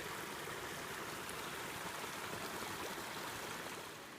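Steady broadband rush of water flowing by a small dark-bottomed pond near a broken footbridge at Lagole, Calalzo di Cadore, continuous and fairly close with no voices.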